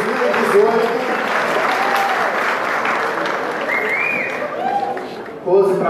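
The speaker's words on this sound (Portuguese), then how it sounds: "Uma salva de palmas aí para a galera da São Torquato" Audience applause at a samba awards ceremony honoring samba school nominees, a steady dense clapping that runs throughout with a voice speaking over it and a rising burst near the end.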